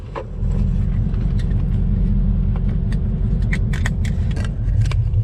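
A 1968 Charger with a swapped 5.7 Hemi and a NAG1 transmission doing a one-wheel peel: a loud, close, continuous engine roar with a deep throbbing rumble and scattered sharp ticks from the tire, lasting several seconds.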